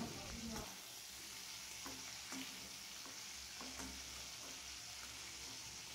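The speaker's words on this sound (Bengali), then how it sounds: "চিংড়ি মাছগুলোকে 2 মিনিট ভেজে নেব হালকা করে" Prawns frying lightly in mustard oil, a quiet but constant sizzle with a few sharper crackles and spatters, heard close and alone.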